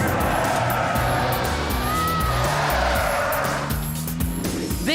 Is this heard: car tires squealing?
yes